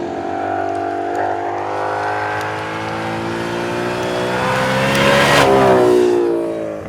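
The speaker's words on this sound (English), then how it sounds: "So under the car also is an amazing exhaust that we developed with Borla." Ford Mustang RTR Spec 5 with a Borla exhaust revs loudly and up close, the engine note climbing steadily in pitch and swelling to a peak near the end before easing off.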